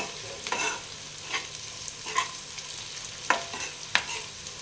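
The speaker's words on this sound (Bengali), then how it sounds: "এই যে পেঁয়াজটা ভাজতে হবে একটু ভালো করে" Onions fry in a pan for a small-fish curry, a low steady sizzle with several distinct scrapes of a spatula stirring at irregular intervals.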